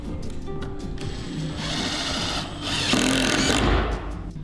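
A power drill drives a screw into a climbing hold on a Tension Board 2 wall. The buzzing motor whirs steadily and rises in pitch and strength toward the end, loud and close, with no voices.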